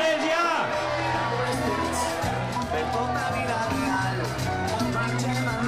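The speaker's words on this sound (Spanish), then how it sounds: "Y el grito de guerra, que esta temporada será Alexandre" A stadium crowd at Alexandre Pato's official presentation with Villarreal CF shouts a war cry, a loud, sustained mass of voices that swells and holds throughout.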